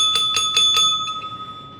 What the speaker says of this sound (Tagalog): Sir AJ, hindi mo napatunog yung ating bell.